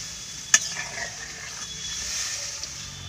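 Fried pointed gourd pieces stirred into a poppy seed masala with a little water and salt: one sharp utensil clink against the pan near the start, then a soft, steady sizzle and light scraping, with no talking.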